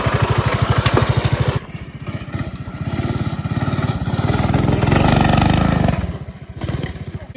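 Small engine of a Coleman mini bike riding over ramp jumps, a loud close rapid putter whose pitch and throttle rise and fall as it revs, with no talking.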